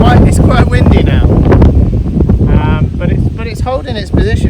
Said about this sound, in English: It's quite windy now,